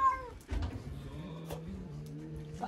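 A cat meows in a short burst at the start, close and fairly clear, over low background rumble and some faint ambient noise.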